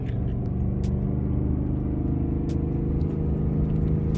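An RV engine labors up a steep 7% grade from a standing start in second gear, a loud, steady low rumble with constant drone and no breaks.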